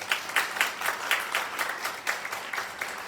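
Audience applause at a youth safety-net event in a hall, a crowd clapping steadily with rhythmic pulses of claps, moderately loud and with no voices over it.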